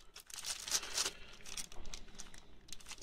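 Plastic bag, the packaging from a brake wheel cylinder seal kit, crinkles and rustles close by in a few quick bursts, with softer handling noise in between.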